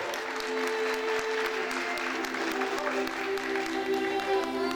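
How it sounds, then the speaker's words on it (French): Applause rings out for candidate number 7, Léa, at the Prodige Haut de France 2022 queen election, a sustained, even burst of crowd clapping with steady musical tones underneath. "un tonnerre d'applaudissements s'il vous plaît."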